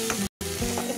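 Prawn masala sizzles and fries steadily in a hot pan while being stirred, a close, dense crackle that cuts out briefly and then resumes.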